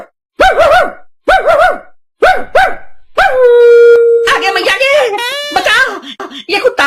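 A dog barks four times in a steady rhythm, then lets out a long, drawn howl that breaks into a run of wavering yelps and whines, loud and close.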